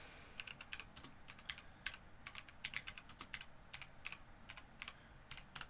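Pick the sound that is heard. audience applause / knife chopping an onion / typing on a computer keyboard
typing on a computer keyboard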